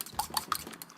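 Eggs whisked in a bowl make a quick run of clinking taps, utensil on dish, close and fairly faint, about five or six strikes in a second.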